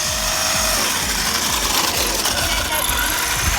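A Wltoys 12423 RC car's electric motor runs at full throttle, a steady high whine with buzzing mechanical noise that holds loud and unbroken throughout.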